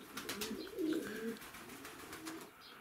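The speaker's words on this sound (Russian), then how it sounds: "Там голубка какая-то лазит, видно голубя." Pigeons cooing at a winter spot where they are fed sand and salt, soft low rolling coos near the start and middle with faint chirps and outdoor ambience, no talk.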